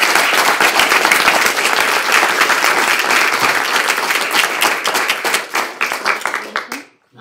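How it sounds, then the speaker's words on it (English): An audience gives a loud, close round of applause with crisp individual claps that thin out into scattered claps and then stop near the end. "Can we give a round of applause?"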